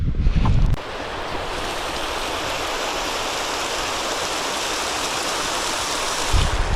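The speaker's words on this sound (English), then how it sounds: "There's the waterfall." A waterfall in a rocky ravine pours with a steady, dense rush of water that fills the scene, louder at the very start and end.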